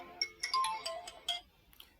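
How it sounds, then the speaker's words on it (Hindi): A phone ringtone chimes in a quiet room, a series of short bright melodic tones repeating over about two seconds, moderately loud with no talk over it. "गोरक्ष तेरी मम्मी का फोन उठाइयो।"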